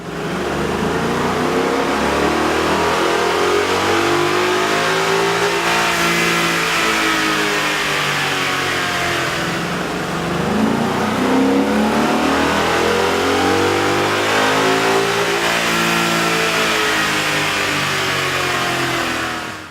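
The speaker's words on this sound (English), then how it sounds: "With the air intake installed, we ran the vehicle on the dyno to test the sound comparison versus the stock intake." Ford Mustang GT 5.0L fitted with an aftermarket air intake, revving hard on a dyno. The engine roars loudly and continuously, its pitch sweeping up and down through repeated throttle pulls, with no speech.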